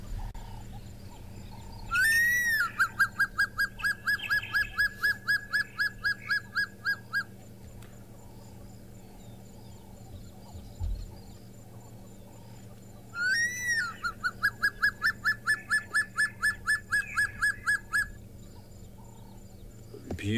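Recorded call of a lizard buzzard played back twice, each a rising whistle followed by a long, rapid series of even, clear whistled notes, heard over low steady outdoor background hum.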